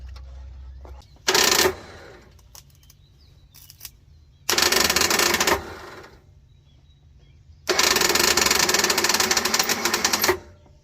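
Starter cranking on a 1979 Ford F-150 that sat for over twenty years, fitted with a new carburetor: three separate loud, steady whirring bursts of growing length with quiet gaps between them, and the engine never catches.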